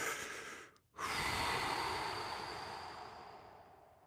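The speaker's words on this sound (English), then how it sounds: "Take 3 deep conscious breaths." A long, deep, steady breath drawn in after a brief pause, close and fairly loud, following the end of a previous breath, with no talking.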